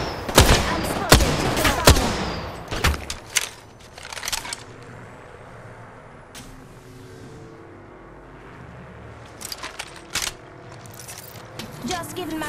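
Video game gunfire striking the player, sharp bursts of rapid shots and impacts at the start, then a quieter stretch before more scattered shots near the end.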